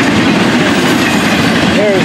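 A Florida East Coast Railway train passes close by, a loud, dense rumble of rolling wheels and rail noise with a brief squeal near the end.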